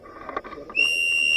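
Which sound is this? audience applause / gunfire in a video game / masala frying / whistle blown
whistle blown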